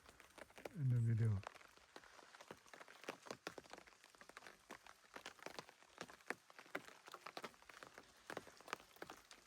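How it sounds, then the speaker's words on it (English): Light rain patters faintly by a pond at a camp, soft scattered drops with a brief low sound near the start. "The rain is coming down now."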